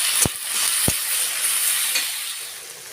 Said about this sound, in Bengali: বেগুন আর বড়িটা সেটাও আমি দিয়ে দিলাম, দিয়ে ভালোভাবে আমি মিশিয়ে নিচ্ছি।